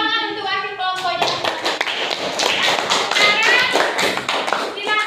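Students in a classroom clapping for their group's representative, starting after a brief spoken phrase and continuing as sharp, close, somewhat uneven handclaps from a small group, with a few children's voices mixed in.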